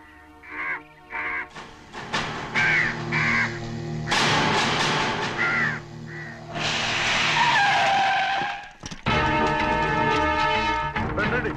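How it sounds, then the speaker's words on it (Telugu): Several crows caw in short, repeated bursts amid a busy comedy scene soundtrack, loud and close, mixed with other effects and voices. "ఈ ఏరియాలో ఒక్క కాగి కూడా ఉండాలని వీలేదు."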